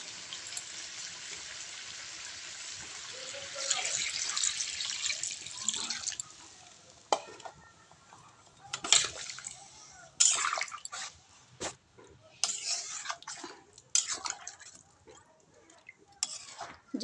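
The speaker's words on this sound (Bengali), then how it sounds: "জল দিয়ে দেবো।" Water poured into a pot of braised meat that has been cooked down: a soft, continuous splashing hiss at first, then short irregular bursts of pouring and dripping, fairly quiet and close.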